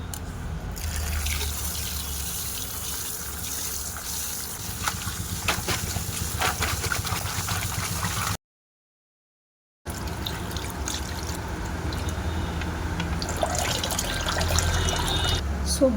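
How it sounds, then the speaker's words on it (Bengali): Cut cucumbers and other vegetables are washed under a running kitchen tap, a steady close rush of water with splashing that stops briefly midway and then resumes. "শসা সব কেটে নিয়েছি, এবার ধুয়ে নেব।"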